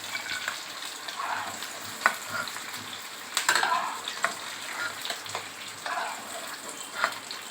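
Ingredients for a pepper chicken curry fry and get stirred in a pan, a steady close sizzle with scraping stir clatters and small spatula knocks throughout, no talking.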